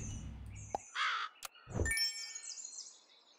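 A crow caws in the Super Auto Pets video game, a short synthetic caw among sparse chimes and blips of game sound effects, with no talking.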